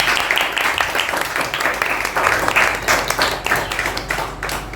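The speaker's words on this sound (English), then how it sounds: "please welcome him with a huge round of applause" A crowd claps steadily throughout, a dense, continuous patter of many hands at fairly close range with no pauses.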